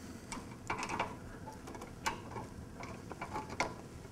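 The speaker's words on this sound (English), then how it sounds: "At this point, go ahead and tighten these 2 bolts here as tight as you can." Bolts on a CTS 3000 camera mount being tightened by hand, giving a quiet series of scattered ratcheting ticks and clicks, some in small bursts, with no voice over them.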